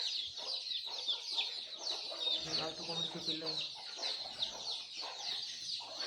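Village hens and chicks at a small poultry farm cheep and cluck continuously, with a louder burst of lower hen clucking near the middle, and a voice briefly under the flock.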